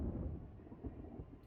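Low rumbling thunder rolls on in a stormy scene of the video game Persona 5, a soft, steady distant rumble with no voices over it.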